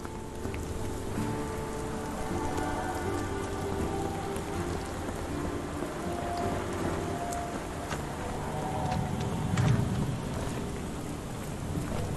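Steady rain falls in the Victorian London setting of the video game Sherlock Holmes: The Awakened, a dense even patter on surfaces lasting throughout, with a faint low rumble and no speech.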